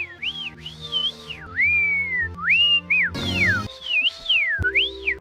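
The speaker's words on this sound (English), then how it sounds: "sometimes would whistle instead of talk" A melodic whistle glides up and down in expressive phrases, like a voice whistling instead of talking, with a soft tonal backing underneath.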